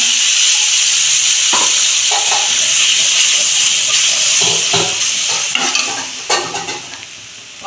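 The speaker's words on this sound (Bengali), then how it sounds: "একটা শুকনো লঙ্কা ফোড়নে দিচ্ছি, 5 ফোড়ন দিচ্ছি অল্প" Dry red chili and a pinch of five-spice tempering sizzle loudly in hot oil for a vegetable dish, a steady bright crackle with sharp pops and stirring clatter toward the end.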